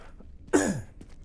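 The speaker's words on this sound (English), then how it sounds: "Forgive my cough." A single short cough, close and fairly loud, with a brief throaty rasp that fades quickly, heard over quiet background sound while a video game is being played.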